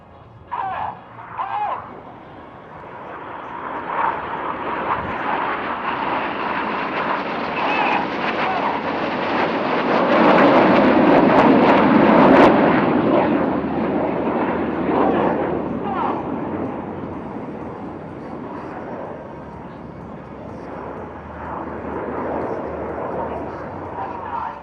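RAF Red Arrows jets fly an aerobatic display at Leeuwarden Air Base, a broad roaring rush that swells to a loud peak midway, then slowly fades into the distance.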